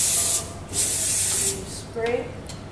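Hairspray sprayed onto hair while styling a bridal updo: two close, hissing bursts about half a second to a second long, followed by quieter rustling.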